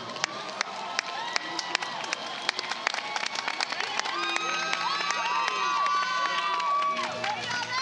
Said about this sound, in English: give them a round of applause for having helped you